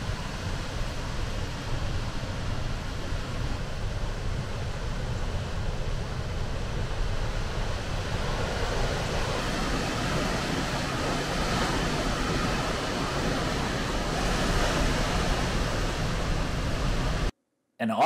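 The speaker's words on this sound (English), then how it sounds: "We're at our second stop, the Rainbow Falls." Rainbow Falls waterfall in Hilo, Hawaii, roars as a steady, dense broadband rush of falling water throughout, constant and fairly loud, with a faint voice beneath it and a brief dropout near the end.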